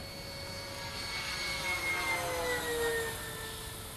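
Radio-controlled F-16 model jet flying overhead while coming in to land, a steady loud turbine whine and rushing roar with slowly shifting pitch, continuous and near.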